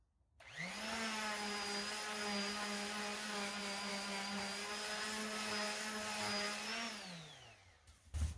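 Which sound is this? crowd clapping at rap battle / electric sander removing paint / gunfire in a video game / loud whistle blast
electric sander removing paint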